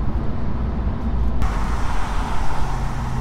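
A fast Alfa Romeo driving close by, a dense steady engine and road roar that stays loud throughout with no clear pass-by swell.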